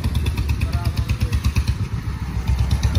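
Royal Enfield Bullet motorcycle engine running close by with a steady low thumping idle and slight revving, a continuous rumble with clattering pulses throughout and no talk.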